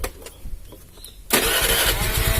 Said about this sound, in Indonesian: Sekarang coba saya double starter.